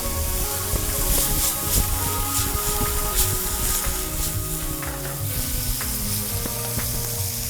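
Beef sizzles steadily and loudly in a hot pan just after wine is added, a continuous dense crackle and hiss with no talking.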